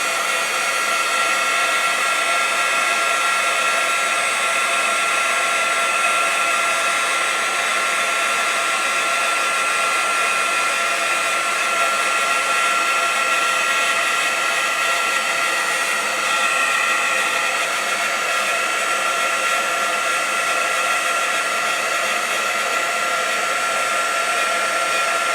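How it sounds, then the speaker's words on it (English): Heat embossing tool blowing steadily while melting embossing powder for a Father's Day card, a loud continuous whirring hiss like a hair dryer, close and unbroken for the whole stretch with no talking. "it's loud again, but just for a second while we heat this embossing powder"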